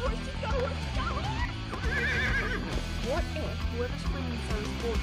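A horse neighs and whinnies several times in an animated cartoon scene, with clip-clop hooves and music-like tones mixed in, fairly loud throughout.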